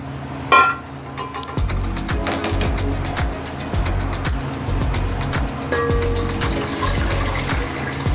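Water pours steadily into a cooking pot for boiling sweet corn, a continuous splashing rush with a brief clatter near the start, close by and with no talk.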